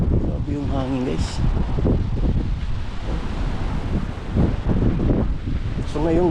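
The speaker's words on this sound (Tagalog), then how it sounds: "Grabe yung hangin guys." Strong gusting wind roars and buffets the microphone outdoors near Yonge and Steeles in Toronto, Ontario, a steady broadband rush throughout with someone talking intermittently over it.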